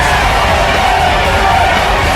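A roaring wrestling crowd fills the TNA Asylum as Sandman makes his way through the fans, a dense, loud wall of cheering and shouting with no break.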